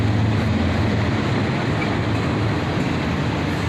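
A CSX freight train of auto rack cars keeps rolling by close and loud, a steady unbroken roar of wheels and rattling cars with no voices.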